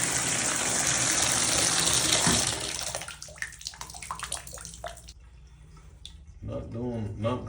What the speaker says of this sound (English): I'm gonna run the water.